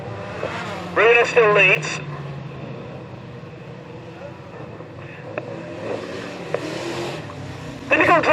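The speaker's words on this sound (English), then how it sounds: "Who are we kidding? This is banger racing." Volvo 240 estate bangers race around a banger-racing track at Standlake, engines droning steadily beneath an excited commentator with a brief louder burst of motor noise near the start and end.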